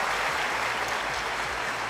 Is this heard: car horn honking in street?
no